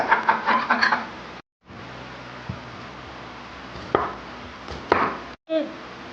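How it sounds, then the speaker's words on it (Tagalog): An onion is cut and peeled on a board: a burst of quick knife chops at the start, then scattered single cuts and dry peeling scrapes with short quiet gaps, close and moderately loud, with no talk. "kailangan natin siyempre maghiwa ng sibuyas. Ang gito magbalat ng sibuyas."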